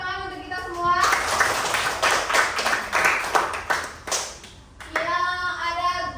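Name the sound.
clapping by students in a classroom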